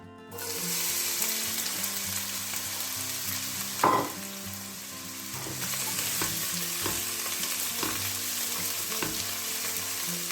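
Freshly sliced onions, two of them, sizzle steadily in a little hot oil in a pan, a loud continuous fry with a brief sharper burst of crackle and clatter early on, then stirring knocks over the hiss.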